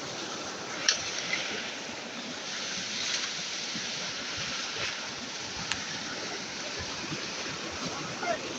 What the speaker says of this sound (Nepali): यहाँदेखि त्यो ओह्रालो पानी झर्ने ठाउँ छ